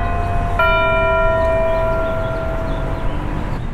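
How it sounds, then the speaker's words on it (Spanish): Clock bells chiming at the corner of the Hotel Imperial on Paseo de la Reforma in Mexico City, one ringing strike with a long humming decay over steady street and traffic noise. "no sé si alcancé todavía a grabar un poquito de las campanadas"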